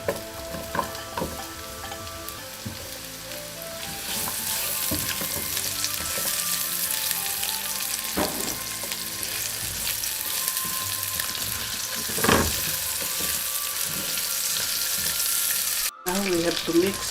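Onion and garlic, with ginger, frying in a hot pan for a chicken igado dish, a steady bright sizzle running throughout, punctuated by scraping stirs and occasional clinks of utensils close by.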